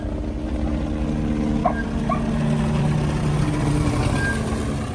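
A rescue helicopter searching over the flooded Guadalupe River in Texas gives a steady, droning rotor and engine hum that holds at an even level throughout, with faint thin tones drifting above it.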